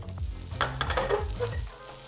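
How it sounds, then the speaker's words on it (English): An egg foo young omelette sizzles gently while pan frying on low heat in a wok, a soft steady crackle with a few brief scraping stirs as it is slid around. "After about 3 to 4 minutes of pan frying on low on this side"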